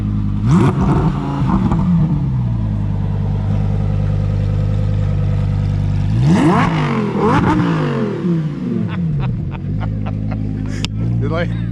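A 2024 Harley-Davidson Road Glide motorcycle engine revs loudly and close, with two strong throttle blips that climb and fall over a deep, steady idle rumble.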